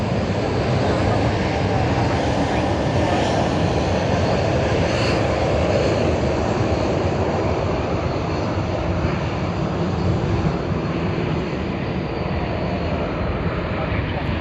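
An Air New Zealand airliner taxis at Sydney Airport, its engines a steady, broad roar that holds at constant loudness throughout, with voices talking over it.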